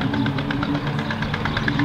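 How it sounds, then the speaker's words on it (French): Old tractor engines run steadily at a tractor exhibition, a loud, close, rhythmic chugging idle with regular knocking pulses. "de vieux tracteurs en fait. Donc du coup ça fait du bruit"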